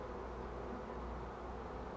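Honeybees buzz around a hive while a beekeeper works a newly caught swarm, a steady, faint, even drone with no breaks and no voices.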